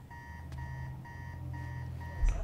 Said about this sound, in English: How long has that been going off? His alarm?